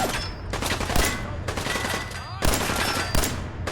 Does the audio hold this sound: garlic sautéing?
no